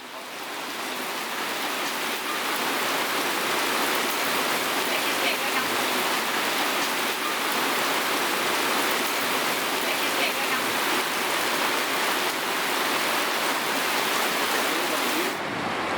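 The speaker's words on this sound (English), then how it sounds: "It's raining again." Steady, dense hiss of rain falling on Paris streets, heard close and unbroken for the whole stretch with no voices over it.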